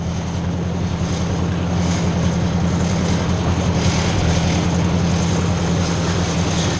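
A tractor engine drones steadily and loudly in third gear, with a constant low rumble and broadband mechanical roar throughout and no pauses.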